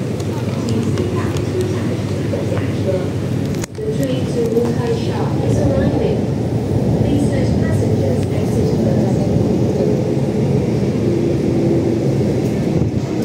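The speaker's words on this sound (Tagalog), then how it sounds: "paparating na ang train" MTR metro train arriving at Tai Wai station in Hong Kong, a steady loud rumble and hum of the approaching train filling the platform, with a brief sharp clunk partway through.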